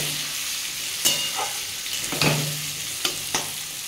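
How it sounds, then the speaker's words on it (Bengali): Onions frying with turmeric in a pan for pumpkin dhoka make a steady, close sizzle, broken by a few sharp stirring clinks and scrapes. "হলুদ দিয়ে দিলাম, পরিমাণ মতোই দিয়ে দিলাম। দিয়ে পেঁয়াজটা ভালো করে বন্ধুরা ভেজে নেব।"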